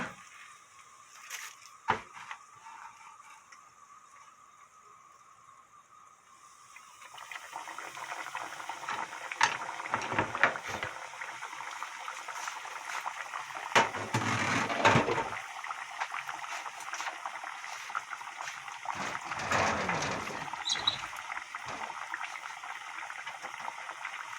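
Oil bubbles and sizzles steadily in a wok as breaded chicken breast gets its first fry, growing louder and busier after a few seconds, with occasional clinks and scrapes close by.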